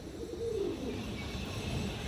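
Low, soft cooing from giribaz pigeons shown in a loft, a muffled murmur that hums steadily for about two seconds beneath quiet room noise.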